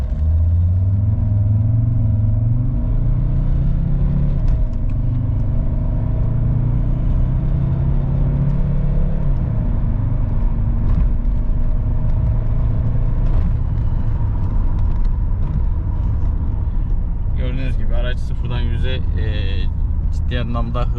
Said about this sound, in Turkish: Arkadaşlar şimdi bir sıfırdan 100'e doğru bir kalkışına bakacağız.